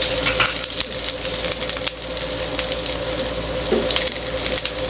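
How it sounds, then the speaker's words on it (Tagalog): Garlic sizzles in a hot pan while cooking carbonara, a steady broadband hiss with small pops and crackles running continuously and fairly close. "ilagay na po natin ang ating bawang"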